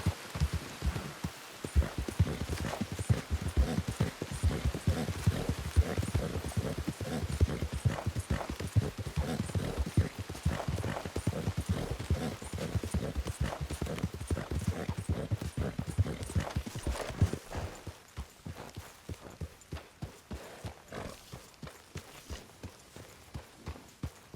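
In Red Dead Redemption 2, horse hooves clip-clop in a steady, brisk rhythm over ground, continuous and fairly close, growing softer toward the end.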